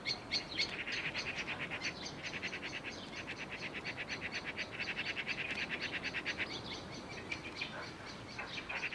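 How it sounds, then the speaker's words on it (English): Small woodland birds mob a tawny owl in the woods, a dense chorus of rapid, repeated chattering calls in fast bursts that carry on continuously at moderate distance. "All the other birds think he's a threat to their chicks, and they're determined to shout him out of town."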